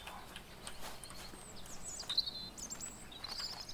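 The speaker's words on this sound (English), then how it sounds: "Those are accurate bird noises." Bird calls in the video game Botany Manor: short, thin chirps and whistles scattered over a faint ambient background, moderately distant and fairly quiet, with no one talking.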